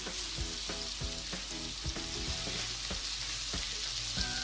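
Shrimp fry over high heat in spicy garlic butter, giving a steady dense sizzle with repeated scraping and stirring clicks at an irregular rhythm, close and continuous without any voices.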